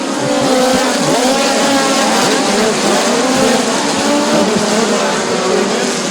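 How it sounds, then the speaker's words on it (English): A POWRi National Midget League race car accelerates hard at Bubba Raceway Park, its engine screaming loud and continuous, with other cars roaring nearby and a crowd-like din beneath. "Here comes your race leader, Kevin Thomas Jr. on the loud pedal"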